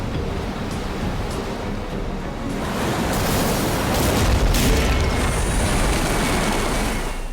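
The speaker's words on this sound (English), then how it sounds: "This giant wave hits the boat." A giant ocean wave crashes into a boat stranded on a reef, a loud broadband roar that swells and surges, peaking in a heavy booming rush before sustaining as churning water noise.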